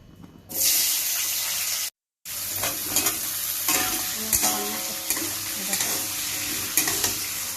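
Potatoes fry in a pan with a loud, close, continuous sizzle and crackle, broken by a brief cut of silence, with occasional stirring clatter and sharp pops.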